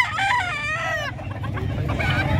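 Chickens at a busy livestock market in San Carlos City, Pangasinan, clucking and crowing loudly and close by in a dense, continuous chorus, with a steady murmur of market noise underneath.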